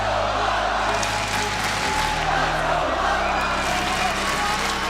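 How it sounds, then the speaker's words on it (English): A huge arena crowd at a Counter-Strike major roars and cheers continuously, a dense, loud wall of noise sustained throughout with no break. "Listen to this crowd!"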